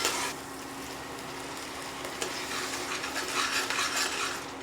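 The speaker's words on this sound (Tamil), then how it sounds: "இன்னும் இந்த வெங்காயம் வதங்கிட்டுருக்கு." Onions sizzle and fry in a pan with a soft, steady crackle, broken by a few scraping stirs, close up with no talk.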